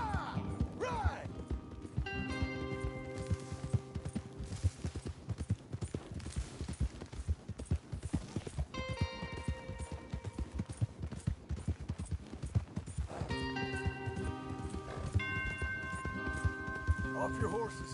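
Rapid hoofbeats of several horses clatter continuously at a gallop in a video game, with sustained musical tones and occasional talk layered on top.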